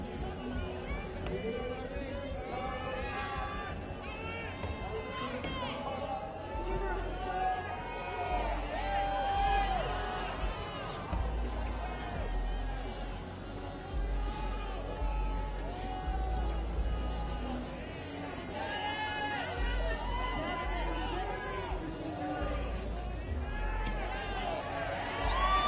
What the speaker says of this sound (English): Crowd very vocal in their support.